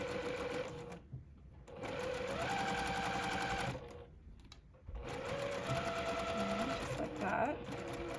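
A sewing machine stitches quilt fabric for a Zinnia block right off the edge in three loud, close bursts of rapid mechanical whirring, separated by brief pauses where someone speaks.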